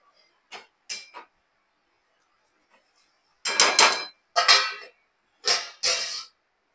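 Metal lid set down on a pan of methi bhaji with onion, tomato and chilli, giving a few short clattering knocks and scrapes in close succession, clear and alone in a quiet kitchen.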